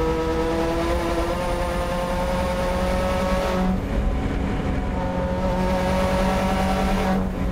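Subaru time attack race car at full speed around a track during a super lap battle, engine droning loudly and continuously with steady harmonic whine and a brief shift in pitch midway, no talking.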